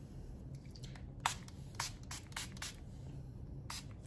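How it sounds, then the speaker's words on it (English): Several short, soft spray bursts hiss up close, spaced irregularly over quiet background noise. "before you start going in with a mist or a glow setting spray"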